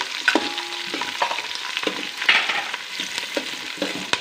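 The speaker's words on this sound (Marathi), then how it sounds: "आणि कांद्याला ब्राऊन येईपर्यंत भाजायचं आहे" Thinly sliced onions fry toward brown for veg biryani, a close, moderate sizzle broken by repeated spoon scrapes and stirring clatter at an irregular pace, with no voices.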